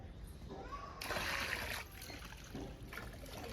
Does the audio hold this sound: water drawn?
yes